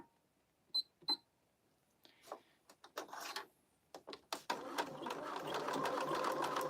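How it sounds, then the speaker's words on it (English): Sewing machine stitching a crossbody bag: a few clicks and short mechanical bursts, then a steady close whirring run of stitches that continues to the end. "we're sewing on this machine today"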